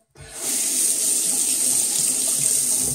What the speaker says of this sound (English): I'm going to completely rinse off because this is going to take a little bit just to remove all that excess slickness